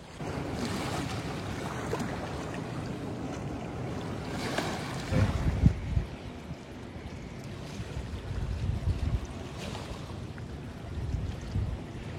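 Sea waves wash against the shore in soft, broad surges under steady wind rumble, with a couple of louder breaking swells and no voices.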